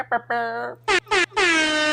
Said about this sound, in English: So air horns from now on.